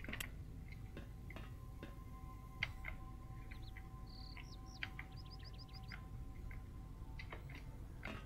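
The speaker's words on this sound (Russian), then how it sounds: "Нравится, что птицы в подземелье слышно." Small birds chirp in a short run of faint, high calls against a steady low hum, heard underground in the video game S.T.A.L.K.E.R. Lost Alpha, with scattered soft ticks and no talking.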